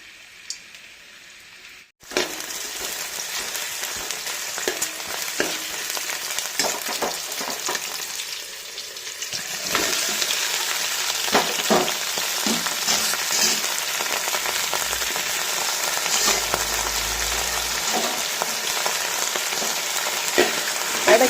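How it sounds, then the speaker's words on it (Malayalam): Onion, green chili and chopped okra sautéing in hot oil: after a brief quiet start, a loud, continuous close sizzle with crackling pops, growing slightly stronger midway and holding steady to the end. "ചൂടായ എണ്ണയിലേക്ക് ഉള്ളി, പച്ചമുളക് ഇട്ട് കൊടുക്കുന്നുണ്ട്. ഇവ വഴറ്റിയെടുക്കാം."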